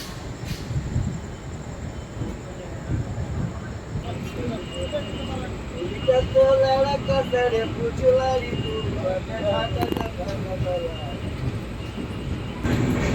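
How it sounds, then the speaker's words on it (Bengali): Passenger train pulling out of Bardhaman Junction platform 2 bound for New Jalpaiguri, heard from on board: steady rumbling wheel and carriage noise building slightly, with a few squeals and clanks, and people talking faintly in the background. "ঠিক 3 মিনিট হল্ট করার পর 2 নম্বর প্ল্যাটফর্ম থেকে ছেড়ে দিল আমাদের ট্রেন নিউ জলপাইগুড়ির উদ্দেশ্যে।"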